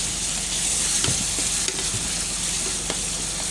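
Masala frying in a pan for village-style sambar is stirred steadily, with a continuous close sizzle and occasional scraping knocks from the spoon throughout.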